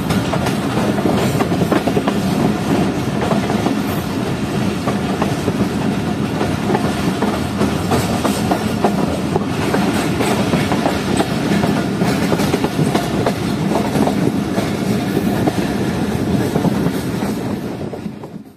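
The Jaffer Express runs on its rails in winter, a loud and continuous rumble with rhythmic clickety-clack of wheels over joints, heard close from on board and steady throughout.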